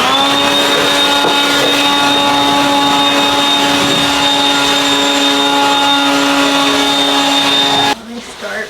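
Handheld air blower blasting dust out of a small wicker basket in a grow room, a loud steady whining roar with a high tonal pitch that cuts off abruptly near the end.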